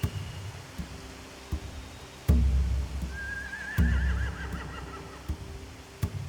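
A horse whinnies with a wavering, fading neigh in The Walking Dead: The Final Season video game, rising over low rumbling game ambience and a few heavy thuds.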